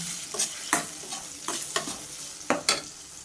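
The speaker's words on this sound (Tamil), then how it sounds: "அடுத்து தக்காளி சேர்த்துக்கலாம் நல்லா வதங்கட்டுங்க" Tomatoes sauté in a pan for a fish curry, a soft sizzle broken by several distinct scraping stirs of a spoon, close and clear with no talk.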